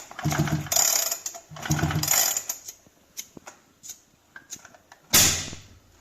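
A Husqvarna 365 chainsaw's starter cord is pulled three times, each pull giving a close rasping, ratcheting whir; two come back to back, then a pause before the last, with quieter mechanical clicks between them.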